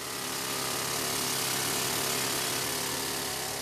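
Rock drill boring holes underground in a white jade mine 400 m deep, a steady loud broadband roar close by and unbroken throughout, with no voices.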